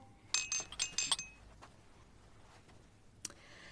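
Glasses clink together in a celebratory toast at a dinner gathering, a quick cluster of four or five bright chimes followed by silence and one last faint clink.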